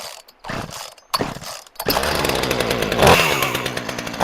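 An old free chainsaw, choke on, pulled over with a few short sputters, then catching and running loud and steady with a rough, revving two-stroke drone.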